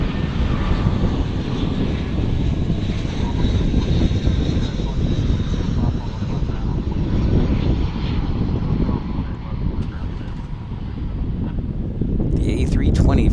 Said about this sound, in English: The A320 for Americans.